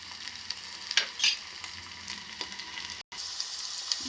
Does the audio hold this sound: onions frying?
yes